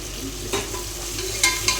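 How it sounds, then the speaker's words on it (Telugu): Tomato and green chillies frying in ginger-garlic paste for a pressure-cooker peas biryani, a steady close sizzle with a few brief stirring scrapes of a spoon in the pan. "ఇప్పుడు వచ్చేసి టమాటా వేసేసాను. పచ్చిమిర్చి కూడా వేసేద్దాము."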